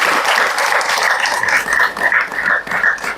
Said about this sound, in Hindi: दिल से एक बार जोरदार ताली होना चाहिए